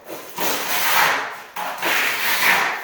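A notch trowel scrapes and carves into vertical concrete on a wall during a stamping and carving job, giving two long, fairly loud gritty rubbing strokes with a short pause between them and no talking.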